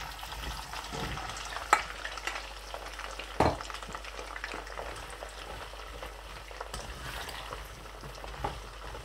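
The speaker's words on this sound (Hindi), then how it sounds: "ऑयल जो है गर्म हो चुका है। सबसे पहले मैं बिस्मिल्लाह भिंडियाँ जो हैं वो इस तरीके से बीच में ऐड कर दूँगा।" Okra frying in hot oil, a low continuous sizzle with a few sharp knocks and stirs of a utensil in the pan, no one speaking.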